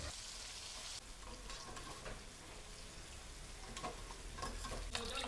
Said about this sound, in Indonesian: Terus habis itu ini ikannya tinggal kita goreng lagi guys.